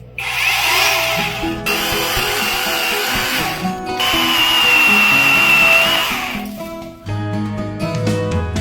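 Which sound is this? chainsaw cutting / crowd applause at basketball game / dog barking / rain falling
chainsaw cutting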